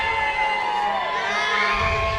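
A football stadium crowd at Camplex cheers and shouts in a dense, sustained roar during a Wyoming Mustangs versus Billings Outlaws game, with faint announcer commentary underneath.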